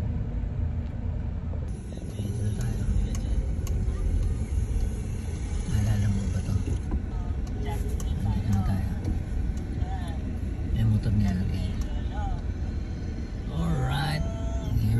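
A vehicle driving on the road with a vintage piano loaded aboard, a steady engine and road rumble running throughout, with people talking over it.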